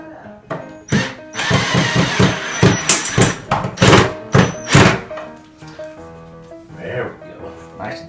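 A pocket hole screw driven into wood, with a close, loud cordless drill whirring in rapid bursts and knocking thuds, then a short final burst after a pause.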